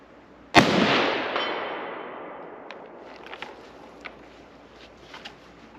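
A single loud, sharp rifle shot from a Colt Ultra Light chambered in 7mm Remington Magnum fired outdoors, followed by a long rolling echo that fades over several seconds, with faint scattered clicks and rustles afterward.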